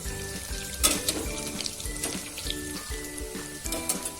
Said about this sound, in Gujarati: આ રીતના આપણે બંને બાજુથી તળતા જઈશું એકદમ સરસ.